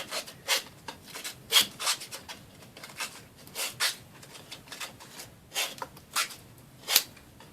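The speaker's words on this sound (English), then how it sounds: "So I'm going to go ahead and finish up scraping all these edges off." Edges are scraped off a Dollar Tree craft sign with repeated short, dry rasping strokes at an uneven rhythm. Each scrape is quiet and close, with no talk.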